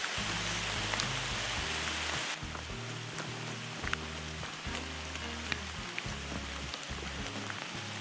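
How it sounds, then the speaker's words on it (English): Steady rain pattering on a surface on a mountain hiking trail, a constant hiss with occasional louder drops, continuous throughout and nothing else prominent. "Yep, no shortage of rain."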